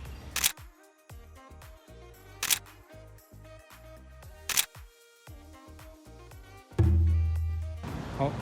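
Camera shutter clicks from an iPhone 13 Pro Max and iPhone 12 Pro Max taking photos in low light, three sharp separate snaps amid soft music, followed by a louder tonal swell.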